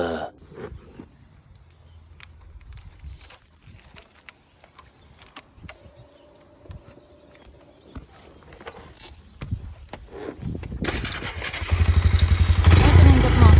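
A motorbike engine sits silent through a long, quiet stretch with scattered small clicks, then catches near the end and runs loud and close with a steady rumble, as a voice talks during the stretch.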